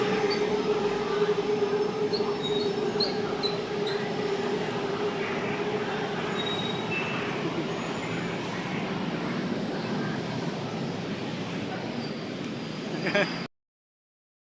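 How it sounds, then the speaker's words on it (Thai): An electric train rumbles past close by, a steady roaring wash with faint wheel squeal, lasting most of the clip before cutting off abruptly. "รถไฟมาแล้วรถไฟมาแล้ว"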